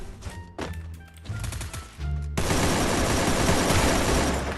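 Gunfire in a mobile shooting video game: a few separate shots come first, then a sustained, loud stream of rapid automatic fire.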